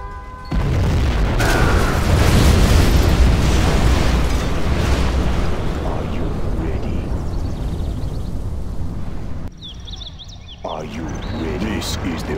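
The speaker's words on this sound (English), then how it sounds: "We have launched our nuclear missile." A nuclear missile and Scud Storm strike in Command & Conquer Generals Zero Hour, opening in a loud booming blast that rolls on as a dense, sustained roar of explosions, with a game voice line briefly cutting in near the end.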